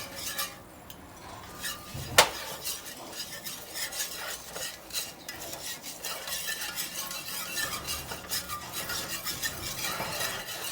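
Flour roux for breakfast gravy being stirred in a pan, with a steady scraping, rasping spoon-on-metal rhythm and faint sizzle, plus one sharp clink partway through; no voices.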